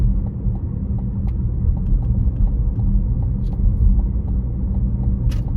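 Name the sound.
car driving and changing lanes on a road test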